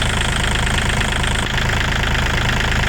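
A used Kubota tractor engine idles close by, steady and loud, with a low rhythmic chug and faint knocking, running continuously without any voices.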